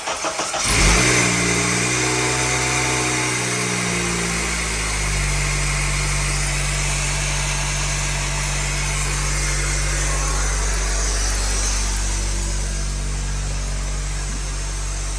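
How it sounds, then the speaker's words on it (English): A Honda Element engine cranks and catches, then settles into a steady, loud idle that continues close by for the rest of the stretch, with no talk over it. "We're going to start it to see if it idles up and down."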